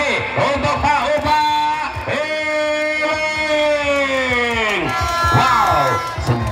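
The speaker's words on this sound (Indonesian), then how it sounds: "Tepuk tangan lagi untuk Pak Upa" A crowd at a bola kasti tournament match cheers, shouts and whoops loudly and continuously, with many overlapping voices rising and falling throughout.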